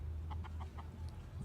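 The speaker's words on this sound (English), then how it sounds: "Look at this chicken." Chickens clucking in a Yemeni village, a run of four short, fairly close clucks followed by a couple of higher calls over a low steady background hum.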